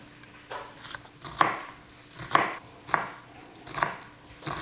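Knife chopping food on a cutting board while cooking lasagna bolognese, about five sharp, evenly spaced thuds, close and moderately loud with no talk.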